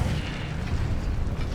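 Incendio fire spell cast in Hogwarts Legacy, a steady booming, rumbling burst of flame that holds loud and unbroken for over a second with no voices.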